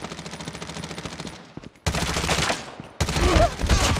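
An MP5 submachine gun fires in Call of Duty Mobile on the Season 7 test server: loud, rapid automatic bursts, a sustained stream, a brief pause, then two more heavy bursts up close.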